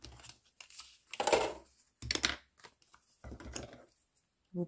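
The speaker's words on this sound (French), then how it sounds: "Vous prenez les ciseaux et vous faites une petite courbe." Scissors snip a small curve into a paper card with short, close cutting strokes and paper rustling between quiet pauses.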